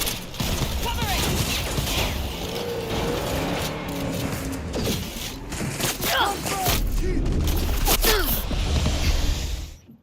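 Video game gunfire lays down covering fire: a busy, loud stretch of rapid shots and clattering mechanical weapon sounds, with voices calling out over it.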